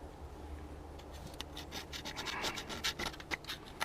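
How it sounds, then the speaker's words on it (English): Old gasket material being scraped off a Jeep Cherokee XJ engine part, a close, fairly quiet run of dry rubbing and scratching strokes that grow denser and louder toward the end, with no talking. "Scrape all that off."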